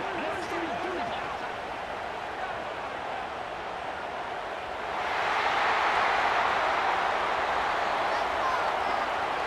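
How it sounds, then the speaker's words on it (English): Loud video-game stadium crowd roaring from a college football matchup between Oklahoma and Alabama, a steady broadband wash that swells noticeably louder about halfway through and stays high to the end. "listen to this crowd noise. This stadium is vibrating."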